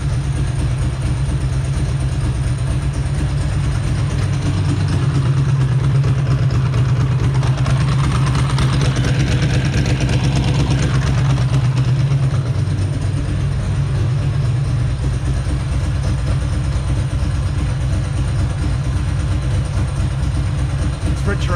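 A Ducati 2V motorcycle engine on fuel-injection throttle bodies, set up like an SSie, Monster ie or ST2, idles steadily and loudly with an even, low throb throughout, and a voice talks over it.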